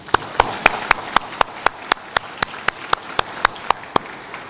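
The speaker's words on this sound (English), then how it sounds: "Let's have another round of applause for Cecilia." About fifteen sharp, evenly spaced claps at a college commencement ceremony, one person clapping slowly and steadily over faint room ambience, with no crowd applause building around them.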